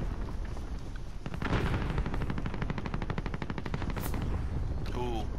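Rapid automatic gunfire from a video game firefight rattles in a long, loud burst of evenly spaced shots, with sharper single cracks near the end and some voices under it.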